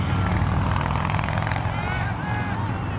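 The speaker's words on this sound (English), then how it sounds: "You can hear the motorbikes driving past here on Power Inn Road." Motorbikes pass along Power Inn Road beside a Sacramento football match, a loud continuous engine drone with rising and falling whine filling the moment, no talk heard.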